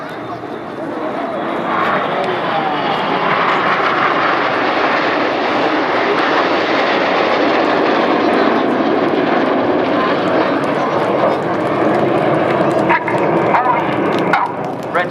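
Red Arrows jets roaring through a corkscrew manoeuvre at the 2014 Sunderland Airshow, a loud, sustained broadband jet roar that holds steady throughout with slight swells near the end.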